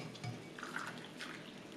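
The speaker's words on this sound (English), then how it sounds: "I'll pour myself a nice hot cup of tea." Hot tea pours into a cup, a soft, steady liquid trickle with faint bubbling at close range.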